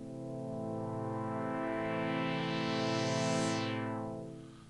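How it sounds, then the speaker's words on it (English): A square-wave patch on the first oscillator of a Thor synthesizer plays one sustained, buzzy, harmonically rich tone. The filter opens and closes once over the note, which swells slightly and then fades at the end. "what I'm going to do is I'm going to switch the first oscillator to a square wave"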